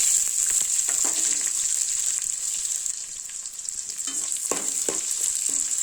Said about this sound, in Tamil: இப்போ வெங்காயம் வேலை பிடிச்சி சேர்த்துக்கணும்.